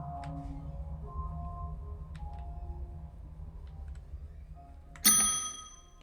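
A single bright bell ding rings out near the end over quiet background tones in the Late Shift video game, ringing briefly before fading.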